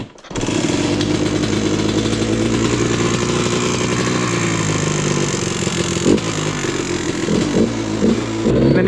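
Two 2022 two-stroke dirt bikes, a Yamaha YZ125 and a Kawasaki KX125, rev hard in a loud, raspy, high-pitched drone, nearby and continuous. Throttle blips and stuttering rev changes come through toward the end.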